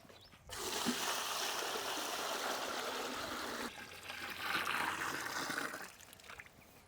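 Water pours steadily into a cooking pot for chicken, a loud continuous splashing stream that starts suddenly, shifts pitch midway as the pot fills, then stops near the end.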